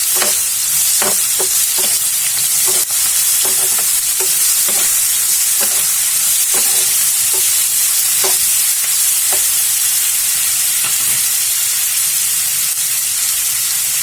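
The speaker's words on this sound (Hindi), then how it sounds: "थोड़ा भुनने के बाद इसमें 1 स्पून अदरक लहसुन का पेस्ट डालेंगे। इसे भी हम भून लेंगे।" Ginger garlic paste sizzles steadily in a pan, frying for a matar paneer dish, while a spoon scrapes and stirs in a string of sharp clicks and taps over the constant hiss.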